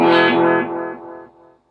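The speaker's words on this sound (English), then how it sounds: "Almost sounds like there's a reverb along with the delay when you play." An electric guitar plays a single chord through a small practice amp with delay and reverb, ringing out loud and then fading in stepped echoes over about a second and a half before cutting to silence.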